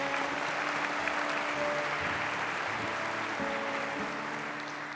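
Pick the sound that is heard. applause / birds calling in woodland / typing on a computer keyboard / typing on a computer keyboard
applause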